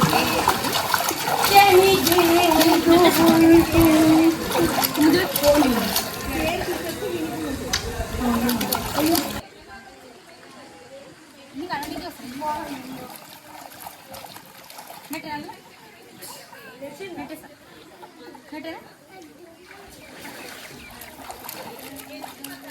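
Water splashes and churns in a swimming pool, busy and fairly close for the first few seconds and then quieter and more scattered, under children's and adults' voices talking throughout.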